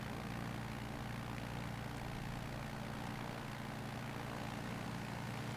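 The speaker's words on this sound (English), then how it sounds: "It sounds a little choppy, but definitely a slightly higher RPM tone." Rara Avis Sim Zippy Sport propeller engine at full power in MSFS 2020, a loud, steady, slightly choppy high-RPM drone that fills the whole stretch without pause.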